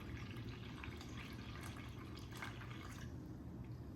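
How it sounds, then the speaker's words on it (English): Cold water pours into a butter churning kit, a steady close splashing and trickling stream lasting a few seconds with no voices. "we'll pour the water in. This is cold water."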